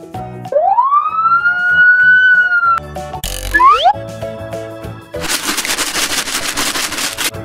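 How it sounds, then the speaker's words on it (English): A cartoon police car siren from a children's vehicle puzzle animation wails up in one long rising tone, followed by a springy boing effect and then a burst of rapid rattling. "Police car"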